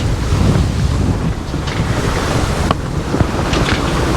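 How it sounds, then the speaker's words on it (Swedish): Steady wind and breaking waves while sailing a small boat toward Läckö on Lake Vänern near Lidköping, a loud continuous rush with wind buffeting the microphone and occasional sharper splashes against the hull. "Ja, nu blev det lite vind."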